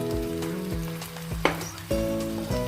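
Fried paneer cubes sizzle in a pan with vegetables for a Chinese-style paneer dish, a steady crackle running under louder music throughout.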